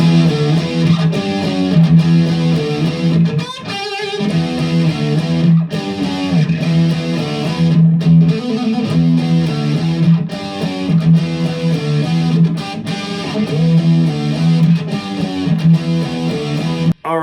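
A rock riff played on a distorted electric guitar, with chugging low notes and quick melodic fills repeating steadily at full volume for the whole stretch, with no talking.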